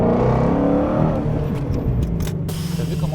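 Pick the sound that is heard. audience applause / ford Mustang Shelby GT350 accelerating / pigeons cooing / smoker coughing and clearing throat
ford Mustang Shelby GT350 accelerating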